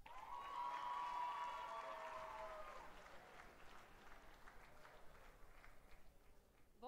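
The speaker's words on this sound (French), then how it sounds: "s'il vous plaît, tout le monde, elle mérite un gros applaudissement" An audience at a secondary-school talent show applauds to welcome a young performer, clapping with a few cheers that is strongest at first and then thins into scattered claps, all fairly faint.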